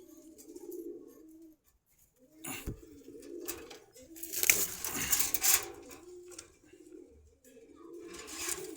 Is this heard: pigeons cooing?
yes